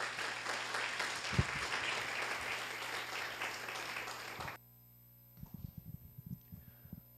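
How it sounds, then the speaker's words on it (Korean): Crowd applause at a university awards ceremony fills the room for several seconds, then cuts off abruptly, leaving near silence with a few faint low thumps. "다시 한번 공모전에 수상한 모든 학생들에게 큰 박수 부탁드립니다."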